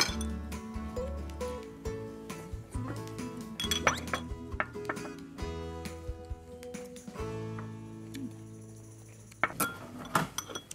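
Dishes, cutlery and glass clink and clatter in a home kitchen where tofu is being fried, with scattered sharp clinks and squeaks, some louder bursts near the end and a little background talk.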